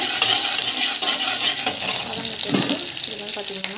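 Mustard seeds and small onions fry in hot oil in a pan for a spicy tamarind curry, with a steady sizzle broken by stirring scrapes and light clatter.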